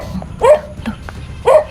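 Dog at a neighbour's house barking twice, loud and close, with the two sharp barks about a second apart and soft whimpering noises between them.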